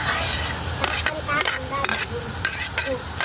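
Chopped onion and tomato are stirred in a frying pan, with a spoon scraping and clacking against the metal in repeated quick strokes over a low steady sizzle. Nobody speaks.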